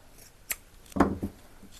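A single snip of scissors cutting something off during a spring DIY thrift-flip craft project, a couple of faint clicks followed by one short, sharp cut in a quiet room.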